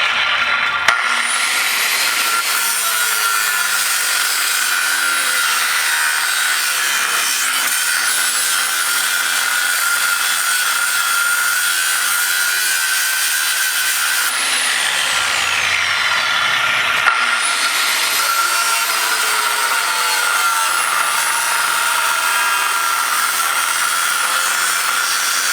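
A power saw cutting steadily through wood for a long, continuous stretch, loud and close. A whining high buzz holds throughout, with a brief dip midway as the blade shifts before cutting resumes.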